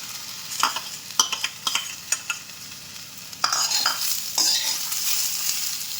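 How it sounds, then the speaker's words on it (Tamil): Garlic and shallots sautéing with okra in a hot pan, a steady sizzle broken by sharp spoon scrapes and clinks against the metal, the frying swelling louder and denser in the second half; no talking. "பூண்டை போட்டு ஒரு நிமிஷம் நல்லா வதக்கிட்டு அடுத்து சின்ன வெங்காயம் சேர்த்திக்கலாம்."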